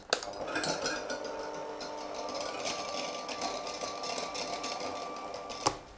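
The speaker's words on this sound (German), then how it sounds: "Als nächstes schlage ich die kalte Sahne auf, die am besten frisch aus dem Kühlschrank kommt" An electric hand mixer whips cold cream for a mandarin cheesecake, a steady whirring motor with beaters rattling in the bowl, and a louder clink just before it stops.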